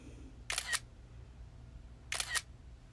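A camera shoots frames for Lego stop-motion, with two crisp shutter clicks about a second and a half apart against a quiet room.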